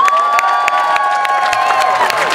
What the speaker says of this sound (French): On applaudit ces beaux jeunes.